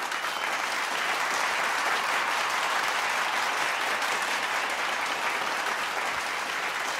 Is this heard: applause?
yes